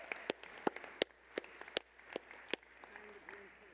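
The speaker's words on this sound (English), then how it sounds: "Can we give them a round of applause?" Sparse, scattered claps from a small conference audience thanking a technical and camera crew, each clap distinct and fairly near, thinning out as a voice begins murmuring at the end.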